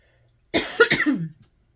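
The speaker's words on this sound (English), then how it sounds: "Sorry about that cough, you guys." One short, harsh cough bursts out in a quiet room, a couple of quick rasping pulses close to the microphone.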